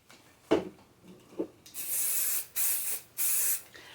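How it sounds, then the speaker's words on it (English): Hairspray hissing from an aerosol can onto hair during a blow-out styling, three steady bursts of about half a second each, close and clear, after a few soft handling taps. "And then I'll spray it."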